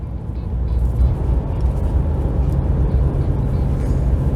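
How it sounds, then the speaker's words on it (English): A RAM 2500 with the 6.7L Cummins diesel drones steadily while its exhaust brake holds the truck in fourth gear, towing a trailer; a continuous low rumble from inside the cab. "That exhaust brake is actually really good."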